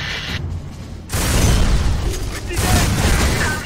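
Sustained gunfire and explosive bursts from a first-person shooter, the game Black, roll loud and dense through a firefight, swelling into heavier booms partway through with no clear voices on top.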